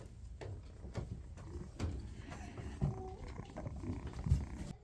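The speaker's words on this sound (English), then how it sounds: "she won't stop purring" A barn cat purring while being stroked, a soft, close, rhythmic rumbling with repeated breathy pulses and light rustling and no talk.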